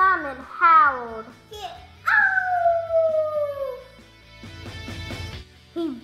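A dog howls in long drawn-out wails, one rising cry then a longer falling howl, loud and close, with short yips and a voice around them.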